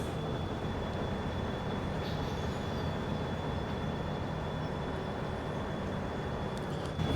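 A train in Farming Simulator 17 gives a continuous, steady rumble of rolling rail wagons with a faint high whine over the top, unbroken and without speech.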